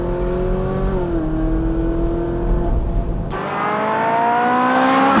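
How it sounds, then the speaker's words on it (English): A Ferrari 458 Spider's V8 revs loud and close, its pitch climbing, dipping briefly at a gear change, then rising again in a sustained high scream. "Just listen to that engine scream."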